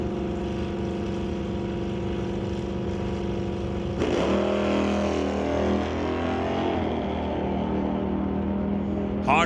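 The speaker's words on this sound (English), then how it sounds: "Hodgson ripping it down track" A Plymouth hot rod on a drag strip holds a steady engine drone, then a loud burst of roaring acceleration launches it down the track, the roar rising and staying strong.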